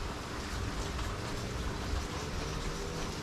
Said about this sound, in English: Hopefully that the sound of the rain and the thunder there kind